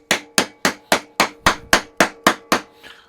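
Ten sharp, evenly spaced hammer blows on metal, shaping a Freddy Krueger glove in a garage, loud and ringing, at a quick steady rhythm with nothing else heard.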